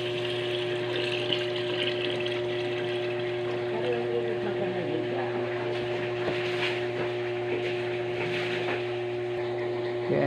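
Water pours steadily into a cooking pot of pork sinigang with cassava, a continuous rushing wash over a constant low electrical hum, close by and without speech.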